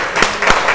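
A live TV studio audience claps for a singer, a short burst of a few distinct, fairly loud hand claps.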